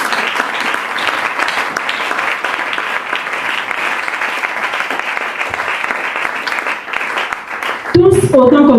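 Congregation applauding in church, a dense, steady wall of clapping that runs nearly throughout, then gives way to a voice speaking near the end.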